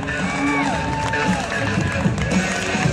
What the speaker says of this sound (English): You guys make some noise for Jeremy Banner